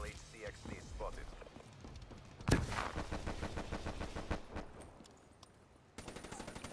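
Rapid automatic gunfire in Call of Duty: Black Ops III rattles in steady rhythmic bursts through the middle of the clip, loud and close, with a sharp blast near the start of the firing and players talking over it throughout.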